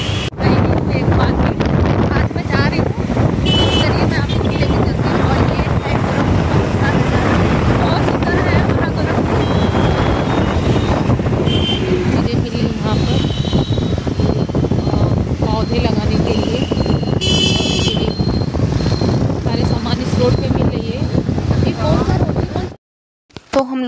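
Motorbike ride along an airport road, dominated by loud, continuous wind buffeting against the microphone with engine and road rumble underneath, ending in a brief drop-out.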